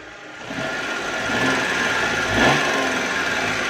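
A 2005 Daewoo Matiz SE 0.8 manual hatchback idles with a steady, even mechanical hum that holds close and constant throughout, with no voices.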